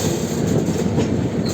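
A Rajdhani Special AC 2-tier train runs over a diamond crossing on the New Delhi to KSR Bengaluru route, giving a steady loud rumble with rapid clattering wheel beats, heard close from inside the moving train.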